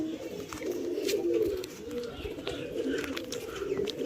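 Madrasi pigeons coo close by in soft, repeated throaty murmurs, several overlapping calls running steadily through the few seconds with a little faint background noise.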